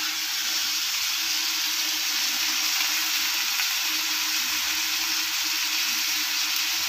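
Ingredients for chutney sauté in a pan with a steady, soft, even sizzling hiss that holds unchanged from start to finish, heard close by without talk.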